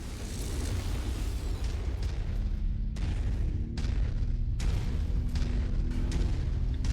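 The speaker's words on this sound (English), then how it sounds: "Reactor explosion detected." A mech reactor explodes in MechWarrior 5, a sustained, loud roaring blast with repeated booming surges and rumbling debris throughout.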